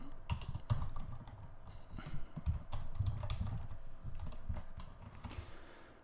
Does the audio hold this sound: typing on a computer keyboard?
yes